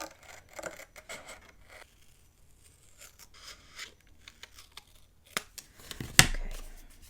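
Scissors snip through paper for a fall mini album, a run of quiet, close crisp cuts with pauses between them and a sharper rustle near the end.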